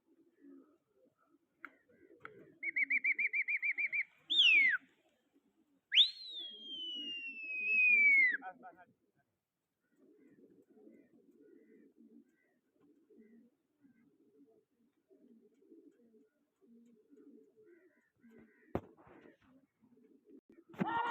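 Pigeons at a feeding spot give a sustained trilling coo followed by a long descending call, loud and close, then soft murmuring and scattered clicks fill the rest, with faint voices now and then.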